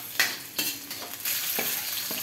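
Garlic hits hot oil in a pan for ginisang ampalaya with egg. It gives a loud hissing sizzle, with several sharp bursts as the garlic is stirred, and the frying noise holds steady between them.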